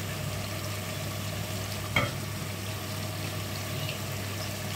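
Homemade chili powder sizzles gently in a frying pan as it is stirred, with a low, steady frying hiss and one brief clink near the middle; no one speaks.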